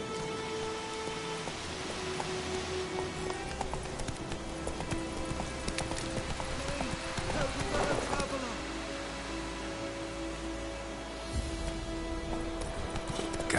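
Geralt's horse Roach in The Witcher 3 gameplay, hooves clip-clopping at a quick, steady pace under constant rain, with a voice speaking over the hoofbeats.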